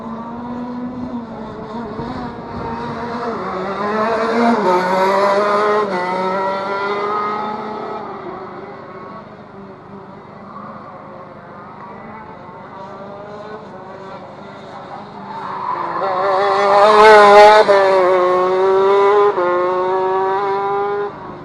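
Retro racing karts from a Formula C championship round at the Rowrah track buzz past, their high engine notes rising as they approach and fading as they go, with two loud passes and steady engine drone between them.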